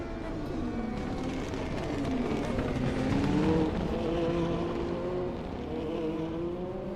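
A DTM race car engine at Spa-Francorchamps, its high revs rising and falling through gear changes as the car runs on track, loud and sustained.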